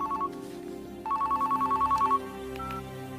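A telephone bell rings in a Telugu movie scene, sounding as a brief electronic trill, then a steady run of about ten rapid pulses, then quieter ringing over background score, with no talk.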